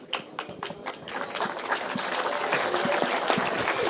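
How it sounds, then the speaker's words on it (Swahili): An audience at a gathering of Gen Z youths at a politician's Wamunyoro residence claps. A few scattered claps swell into loud, dense, sustained applause that fills the room. "Makofi jamani."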